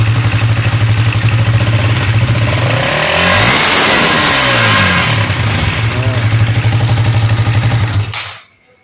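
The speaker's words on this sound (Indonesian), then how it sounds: "Nah kita player dulu gasnya, ini kita gas sampai full" Fuel-injected motorcycle engine at night revved up to full throttle and back, a loud close idle rising into a sustained roaring surge before settling to idle and cutting off at the end.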